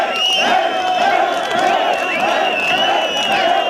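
An angry street crowd shouts and jeers at men during a tense confrontation on a city street, a dense, loud, continuous roar of many voices with a sustained high tone running through it.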